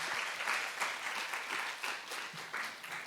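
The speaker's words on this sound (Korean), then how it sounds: "다시 한번 박수 한번 드릴까요?" A university lecture audience gives steady, dense applause for a stage actor, a continuous wash of clapping lasting about three seconds with no voices over it.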